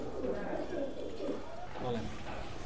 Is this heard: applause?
no